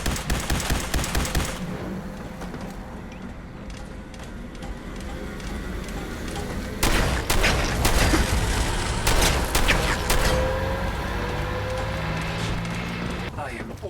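Rapid automatic gunfire bursts and scattered shots in the Fallout 4 video game, loud and sustained across the clip with combat effects and a voice talking over it.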